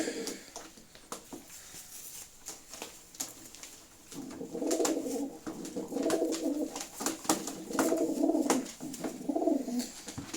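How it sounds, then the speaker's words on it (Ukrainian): Soft, repeated sporting pigeon cooing close by, low throaty calls building in the second half, with faint handling noises and clicks. "Такий цей голуб"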